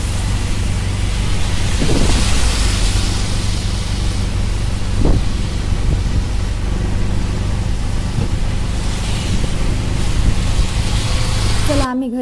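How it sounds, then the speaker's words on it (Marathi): Steady rain outside with low rolling thunder, heard during an auto-rickshaw ride home, the hiss of rainfall continuous under faint rumbles and passing traffic. "पाऊस बाहेर सुरूच होता"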